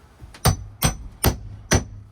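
Four sharp hammer blows driving a carriage bolt into wood at an even, steady rhythm, close and loud with short ringing tails.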